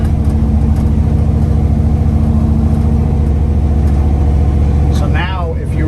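A 1973-1987 Chevrolet C10 pickup with a manual transmission cruises in second gear, its engine holding a steady, loud, close drone for the whole stretch, with a brief voice near the end.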